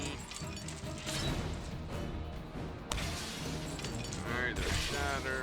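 In the Marvel Puzzle Quest video game, a shatter power smashes tiles with crashing, shattering bursts. The bursts sit over a dense, continuous wash of busy game music and effects.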